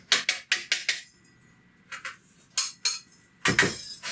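A spoon clinks and taps rapidly against a bowl while sugar is stirred into cake batter liquids with vanilla. The clatter comes in quick bursts separated by short pauses and sounds close, with no voices.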